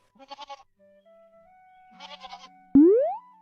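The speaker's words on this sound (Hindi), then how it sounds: "तभी वहाँ पर एक बकरी आई।" Cartoon goat bleating twice in short, wavering calls, followed by a loud springy boing sound effect that slides upward at the end, all clear and close.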